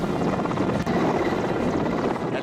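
A rescue helicopter flies over a flood-hit area of New South Wales, Australia, during torrential rain, its steady dense rotor chop and engine roar filling the whole stretch loudly and continuously, with no voices.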